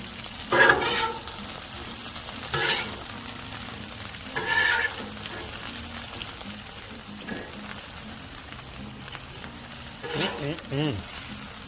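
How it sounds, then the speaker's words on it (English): Okra fries on a Blackstone griddle in a steady, close sizzle, broken by a few louder scraping bursts as pieces are shifted around. "Just let them fry."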